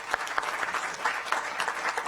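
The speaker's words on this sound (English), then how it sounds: "let's just give them all one round of applause real quick" A council session audience gives a short round of applause, a dense patter of clapping hands at moderate loudness that continues steadily for a couple of seconds.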